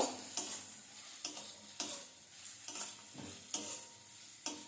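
Chopped onion frying in oil, stirred with a spatula in regular scraping strokes about every half second over a soft, quiet sizzle, heard close up.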